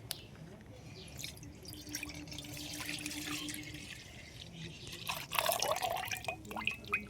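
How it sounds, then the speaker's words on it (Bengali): Half a liter of liquid milk pours into a kadai for making malai puli pitha, a faint, steady liquid trickle with a few soft drips near the end, quiet and close. "কড়ার মধ্যে দিয়ে দেবো পাঁচশো দুধ"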